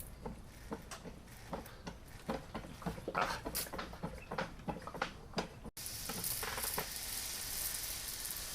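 Fine mist spray watering seed trays, a soft continuous hissing with repeated short bursts as the sprayer is squeezed, close and moderately loud, ending in a steadier broad hiss.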